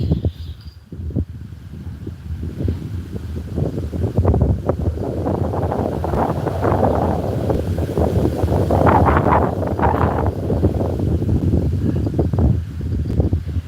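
Steady, loud wind buffeting the microphone outdoors while fishing, a continuous rough rumble with gusts that swell louder midway, no one speaking.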